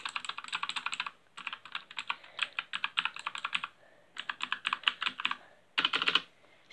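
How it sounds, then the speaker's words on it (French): Computer keys clatter in quick bursts of typing, close and crisp, with short pauses between runs of keystrokes. "Et ah oui, le bruit du clavier."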